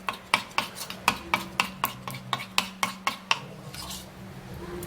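Spoon stirring a face mask mixture in a bowl, a rapid series of about a dozen sharp, close scraping clinks against the sides, then a softer scrape as the stirring stops.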